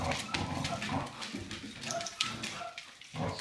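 A dog called Big Dog, a male eager for a female, whimpers and whines in short high bursts close by, with soft rustling movement and faint background sounds between the cries.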